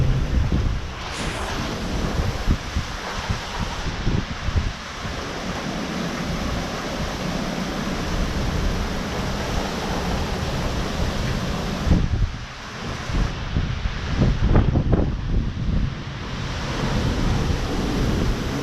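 Severe windstorm roaring without letup, heavy gusts buffeting the microphone in a deep, continuous rumble with brief lulls, loud and close throughout.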